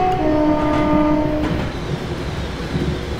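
A Cross Country Voyager train in Train Simulator 2018 on a wintry Trent Valley line, opening with a loud sustained two-tone horn that fades into a steady rumbling roll of the passing train, close and loud.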